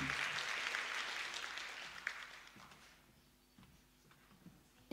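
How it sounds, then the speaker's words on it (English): Audience applause at a congress opening session, a broad wash of clapping that fades out over a few seconds and leaves scattered late claps in a quiet hall. "Okay, so last rounds of claps."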